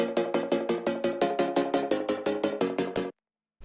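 A saw synth layer in an FL Studio drum and bass production pulses in a fast, even run of short chopped chords, bright and buzzy, then cuts to silence before a brief return at the end.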